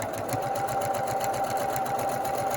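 Sewing machine stitching a Bargello quilt, running steadily and loudly in a fast, even rhythm of needle strokes with a constant motor whir, close up throughout.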